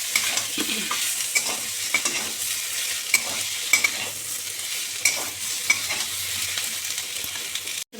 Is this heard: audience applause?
no